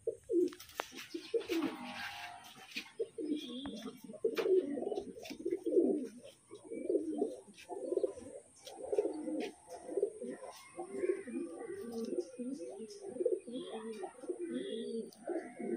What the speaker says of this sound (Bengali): মাদি পায়রা দেখাচ্ছি আপনাদেরকে।